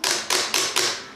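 Four sharp plastic clicks in quick succession from Hayabusa buttons or lever on an arcade fight stick, close and crisp, with no talk.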